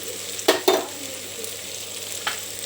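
Ginger paste fries for mutton curry with a soft, steady sizzle, broken by a few sharp scraping clicks of stirring.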